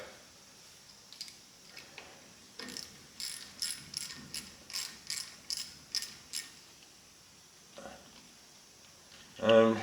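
Socket wrench ratcheting to loosen a bolt while restoring a 1978 International Scout, a run of about ten evenly spaced clicking bursts up close, then a brief louder metallic clatter at the end.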